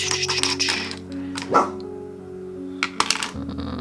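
Dog barking indoors, a few short sharp barks in separate bursts, with low background tones between them.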